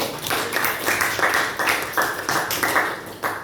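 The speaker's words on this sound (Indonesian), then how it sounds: "beri tepuk tangan sama si Ervin" A classroom applauds a student named Ervin during a teaching practice lesson, a brisk burst of many hands clapping in uneven rhythm that carries on for a few seconds, fairly loud and close.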